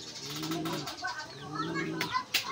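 Pigeons cooing close by in soft, rhythmic throaty phrases, with brief chirps and a wing-flutter-like burst near the end.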